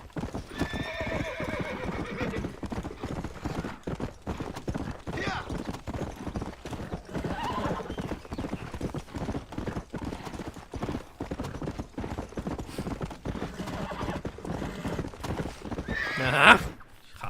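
Continuous galloping hoofbeats of a horse in Red Dead Redemption on Xbox Series S, steady rhythmic clip-clop with snorts and a neigh, while someone talks over it throughout.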